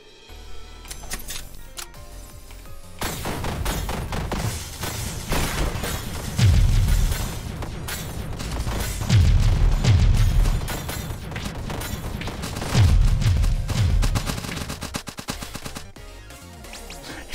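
In the video game One Step From Eden, an eternity cannon fires once every second amid dense, rapid bursts of shots, shattering hits and booming explosions. The sound swells loudly in several heavy waves, with no talking.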